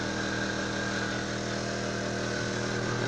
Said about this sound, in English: First, we need to go ahead and turn on the air pump